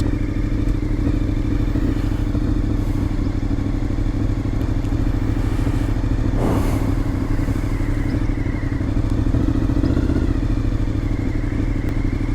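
A Honda VFR750 motorcycle idles in first gear at traffic lights, its engine producing a loud, steady, close rumble that runs unbroken, with a faint clatter partway through.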